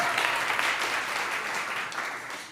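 An audience applauds, a dense wash of many hands clapping at once, steady and fairly loud, easing slightly before swelling again.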